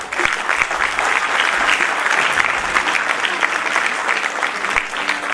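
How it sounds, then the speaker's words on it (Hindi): A crowd at an International Women's Day event applauds loudly and steadily for an honoree on stage, a dense, sustained wash of many hands clapping close by. "जोरदार तालियां।"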